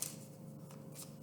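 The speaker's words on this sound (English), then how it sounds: "Right, I'm going to shuffle, but today I think I'm just going to choose the cards from the deck." A deck of tarot cards is shuffled in a brief, soft rustle with a faint papery flutter, heard close and quiet.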